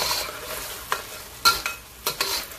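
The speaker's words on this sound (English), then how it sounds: "I'm gonna stir it around until the sauce coats the lobsters very well" Lobsters in black pepper sauce are stirred around a pan, sharp scraping and clacking strokes in an irregular rhythm over a soft, close sizzle.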